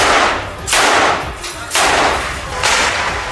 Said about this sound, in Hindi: उन्होंने कई राउंड फायरिंग की